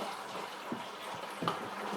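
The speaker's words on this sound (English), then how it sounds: "All right, adding our water in." Water poured into a bucket while making apple mead (cyser), a continuous splashing, trickling flow with a couple of brief splashes, close and steady.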